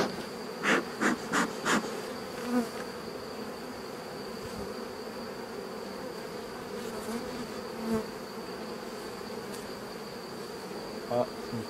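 Honeybees buzz at an open hive that is about to swarm, a dense steady hum close by with a few brief knocks and rustles near the start.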